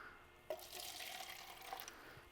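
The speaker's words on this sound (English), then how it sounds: "I'm going to add about 2 ounces of water" About two ounces of water poured into a plastic solo-style cup holding a dry pottery glaze mix, a faint, soft splashing trickle that starts abruptly and runs steadily to the end.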